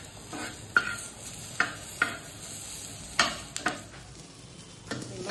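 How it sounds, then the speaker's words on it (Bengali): Green chillies and garlic heating on a tawa: a soft, steady sizzle broken by several sharp scraping and stirring knocks of a utensil against the pan, close and alone. "এরপর এই তাওয়ার মধ্যে দেবো কাঁচা লঙ্কা আর রসুন"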